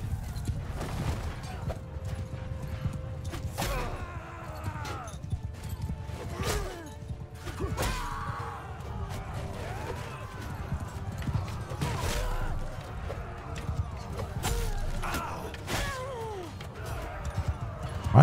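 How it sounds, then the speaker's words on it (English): A horse gallops in Mount & Blade II: Bannerlord (Realm of Thrones mod) during a dark siege battle, with rapid clip-clop hoofbeats and scattered clashes throughout, and someone talking over the action. "Oh, that's a horse."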